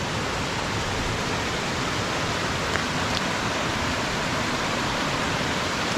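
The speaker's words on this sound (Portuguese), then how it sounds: "Tem uma quedinha de água." Small waterfall at Lago Azul in Jaguariaíva, Paraná, giving a steady, even rush of falling water that stays constant and fairly close throughout, with no voices.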